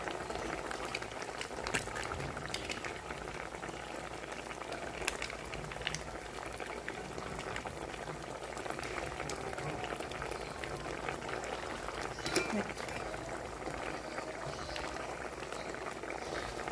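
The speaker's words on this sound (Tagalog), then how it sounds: "kumukulo na po siya" A pot of chicken afritada in tomato sauce bubbles at a steady boil, with a dense, continuous simmering and popping texture and no talking.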